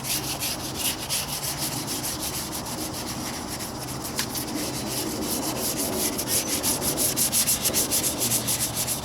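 Wet sanding of freshly rattle-can painted hood on a 1998 Toyota Corolla, a close, steady rasping rub with repeated back-and-forth strokes that turn more rhythmic and pronounced toward the end.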